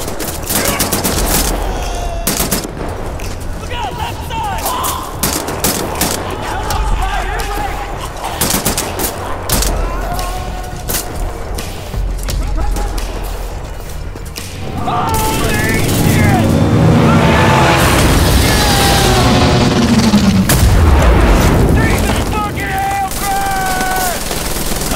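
Rapid automatic gunfire crackles through a Wolfenstein: The New Order battle, dense bursts in the first half and then louder heavy firing and explosive rumble. Voices shout over the shooting throughout.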